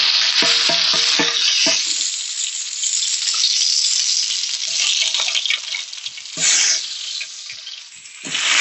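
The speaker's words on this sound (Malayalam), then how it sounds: "അപ്പം നമ്മൾ പട്ട, ഗ്രാമ്പൂ, ഏലക്ക, നമ്മുടെ ബിരിയാണിക്ക് വേണ്ടിയിട്ടുള്ള സ്പൈസസ് എല്ലാം നമ്മൾ ഇടാണ്" Cinnamon, cloves and cardamom fry in hot oil for a mushroom chicken biryani, giving a loud, steady close sizzle with a few scraping stirs of the pan, punctuated by brief lower knocks.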